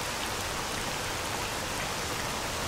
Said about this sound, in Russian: Я даже не помню, чтобы я в оригинальном сталкере под такой проливной дождь попадал.